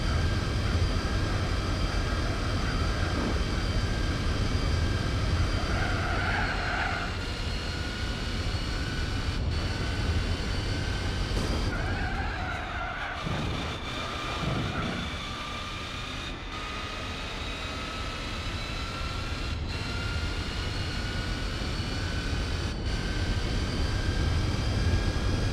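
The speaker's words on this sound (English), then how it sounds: "Does that Silverado really take that long to shift? Just from hearing the engine noise?" A Chevrolet Silverado truck engine roars in a Gran Turismo 4 truck race, a loud steady drone that dips briefly midway as it shifts gear, then climbs back.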